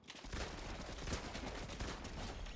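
Gunfire in a shooter video game, with a dense, continuous spray of rapid shots and crackling bursts filling the whole stretch at a steady, fairly quiet level.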